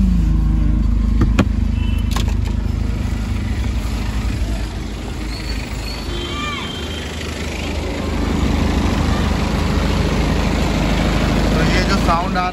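A BMW car engine idles steadily with a low, rumbling vibration, loud and close, with a few faint clicks and rattles over the drone, partly from the air filter.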